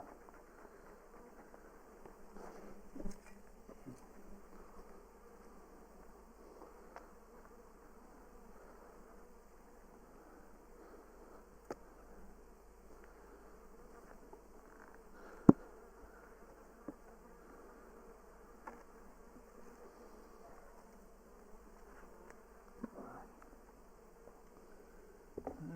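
Honey bees hum faintly and steadily at an opened hive during spring wrap removal, a soft continuous buzz with occasional light clicks and taps, no voices.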